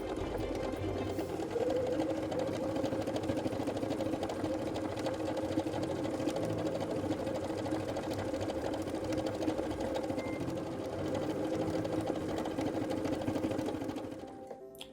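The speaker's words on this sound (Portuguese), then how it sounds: "Aqui eu já encaixei meu tecido abaixo e venho costurando através do Start Stop" Running continuously on start-stop, a Pfaff Creative Ambition 640 stitches fabric with a steady, close motor hum and fast needle patter lasting about fourteen seconds before tapering off.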